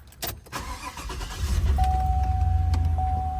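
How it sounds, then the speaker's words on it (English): A Chevy Tahoe fitted with a dash camera has its engine started: clicks and a short crank come first, then the engine catches and settles into a steady, close idle rumble, while a thin electronic whine runs underneath. "we're going to go ahead and start it up, the car"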